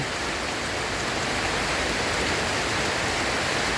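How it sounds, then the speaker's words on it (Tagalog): Typhoon Pepito's heavy rain and strong wind in the Philippines at night, near the start of the storm: a dense, unbroken roar of hiss and wash at constant loudness, with no voices. "Malakas na po ang hangin at saka po yung ano ulan"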